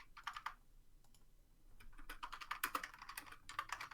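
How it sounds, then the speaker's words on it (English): Loud computer keyboard typing, rapid clustered keystrokes close up with a short pause before a busier, denser burst of clicking. "Loud keyboards."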